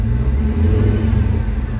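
A car engine revs loudly up close, a deep, steady mid-range roar holding throughout a brief burst.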